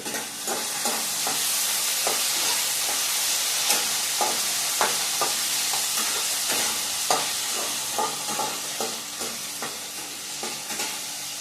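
Food frying in a home kitchen pan during festival meal cooking, a steady hiss of sizzling oil with repeated sharp clinks and scrapes of a stirring spoon at close range, no voices.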